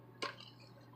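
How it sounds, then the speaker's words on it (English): A silver ring stamped 925 drops into water with a single short, faint splash-plink, followed by a soft trickling decay and quiet hum. "We'll place it in the water."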